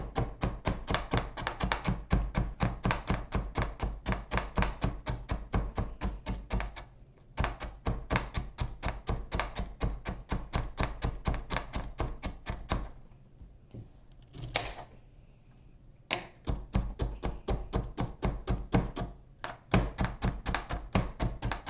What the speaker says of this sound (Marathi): आता हा सुद्धा मुळा मी असाच चोचवून घेणार आहे